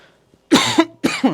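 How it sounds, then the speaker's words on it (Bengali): A person coughs twice in quick succession, close and loud, each burst rough and breathy, during an HSC pre-test study-tips talk. "সরি বারবার কাশি আসতেছে"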